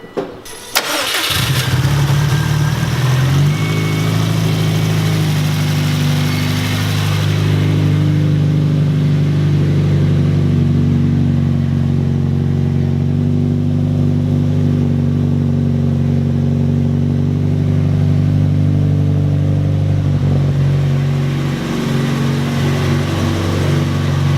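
A Subaru STI engine cranks and catches just after an oil change, then settles into a steady, loud idle that drones on without a break, with no talk.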